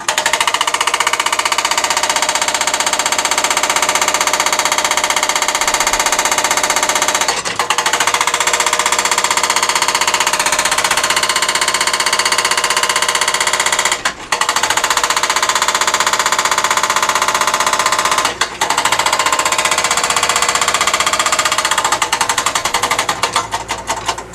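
A jackhammer breaking flint in a quarry pounds away continuously and loudly, a harsh rapid rattling that stops briefly a few times before resuming.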